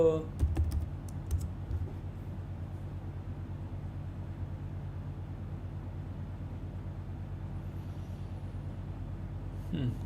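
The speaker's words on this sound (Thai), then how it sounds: "ลองพิมพ์ดูบ้างดีกว่า" Soft, faint tapping on a computer keyboard continues in a steady patter over a low background hum.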